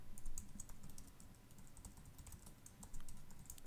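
Typing on a computer keyboard to log in, a close, quiet run of irregular key clicks with brief pauses and no talking.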